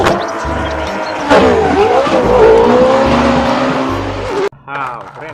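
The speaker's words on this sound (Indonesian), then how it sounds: "Lamborghini balapan." A Lamborghini race car driving, with a loud, close engine whine rising and falling, a sharp change partway through and brief tire-like squeals, amid bright toy- or game-like sound effects.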